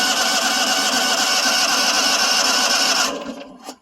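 A John Deere 652R mower engine that had sat for a while, running loud, close and steady with a fast mechanical chatter, then cutting out and sputtering briefly before falling silent.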